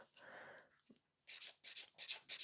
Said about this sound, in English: now we are going to grab the buffer and just give it a couple scratches to it